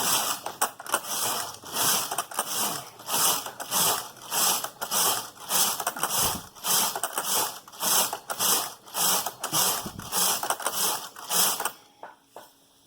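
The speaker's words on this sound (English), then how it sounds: "Let's put our carriage back to knit back from hole and knit 20." Knitting machine carriage pushed back and forth across the needle bed to knit rows, a loud close clattering ratchet-like mechanical rattle repeating in even sweeps, ending with a few faint clicks, no speech.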